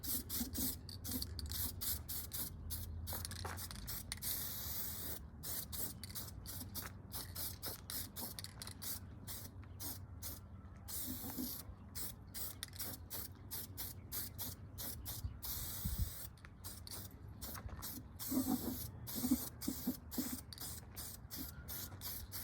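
Spray can laying primer onto a 1967 Dodge Dart K-member, repeated short hissing bursts with brief gaps, close and fairly quiet, with faint mechanical clicks and no speech.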